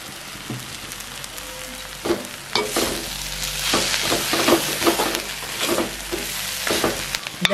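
Sliced onions for Jaffna-style seeni sambal sizzle steadily in hot oil over a low flame, with close, irregular scrapes and clicks of a spoon stirring the pan.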